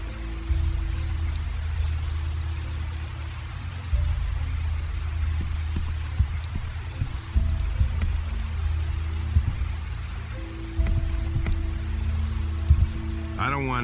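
Rain falls steadily in the Gothic 2 game, a constant wet hiss over a low rumbling ambience, with brief game sounds breaking in now and then.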